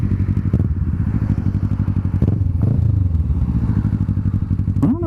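Motorcycle fitted with a Delkevic SS70 slip-on exhaust idling with a steady, throbbing low rumble, a couple of quick blips of the throttle, then a rising rev at the very end.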